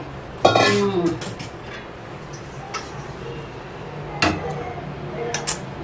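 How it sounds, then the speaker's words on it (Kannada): Metal cooking pots are swapped and handled in a home kitchen, giving a sharp clatter, then a few scattered clinks and knocks close by against a quiet background. "ಪಾತ್ರೆ ಚೇಂಜ್ ಮಾಡ್ತೀನಿ."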